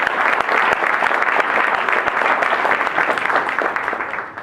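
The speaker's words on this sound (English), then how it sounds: "ladies and gentlemen, clap it up for Jim Collins, please" Sustained applause from an audience at an international American football bowl press conference, dense, even clapping that carries on steadily throughout at a fairly loud level.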